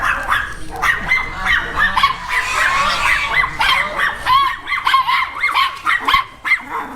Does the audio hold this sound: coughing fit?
no